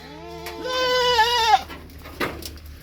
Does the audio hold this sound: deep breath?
no